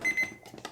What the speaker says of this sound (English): It's my timer.